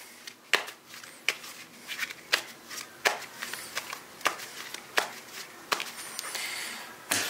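Soft, repeated riffling and snapping of Yu-Gi-Oh! playing cards being shuffled, close and quiet, in irregular bursts.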